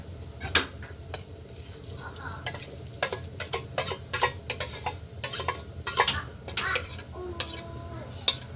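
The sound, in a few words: adding fried cabbage to khichuri and stirring in pot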